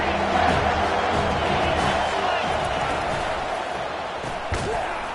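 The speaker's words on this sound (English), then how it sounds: "This crowd knows when to bring it." A college football video game stadium crowd, Notre Dame at USC, roars in a dense, continuous wall of noise with a sharp thud near the end, while a commentator's voice runs underneath.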